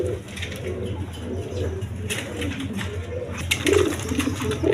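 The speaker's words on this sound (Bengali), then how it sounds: "এখানে এক পেয়ার গররা কবুতর আছে দেখেন" A pair of pigeons in a breeding loft cooing softly and continuously amid a low background hum, with faint rustling and small chirps over the murmur.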